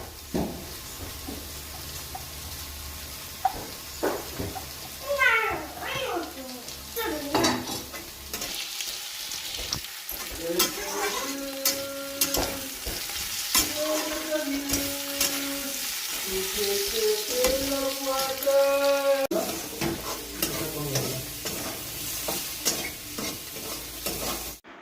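Chopped onion and green chilies fry and get stirred in a home kitchen pan, a continuous sizzle broken by scraping spoon strokes, with other intermittent kitchen noises and tonal sounds mixed in partway through.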